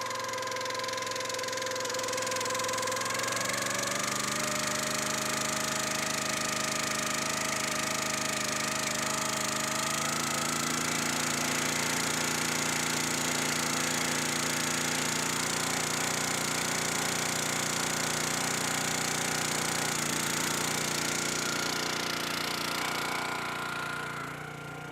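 A CountyLine 25-ton log splitter's small gas engine runs steadily on a cold day after starting, a loud continuous mechanical drone with no talking.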